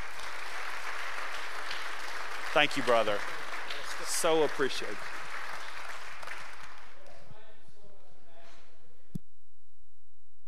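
Church congregation applauding a guest during a Sunday morning service, steady moderate clapping that fades, then someone briefly speaks his thanks near the microphone.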